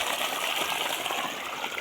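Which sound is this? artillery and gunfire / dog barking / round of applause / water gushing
water gushing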